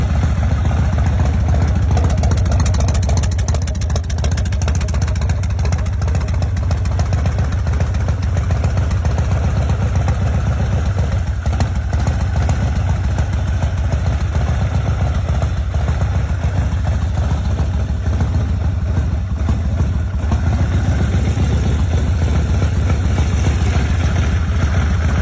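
A 1987 Harley-Davidson FXLR motorcycle engine idles, a loud, continuous low rumble with steady clatter throughout, heard alone without talk.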